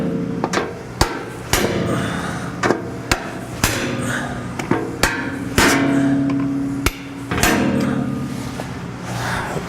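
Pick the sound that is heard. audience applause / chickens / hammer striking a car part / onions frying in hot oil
hammer striking a car part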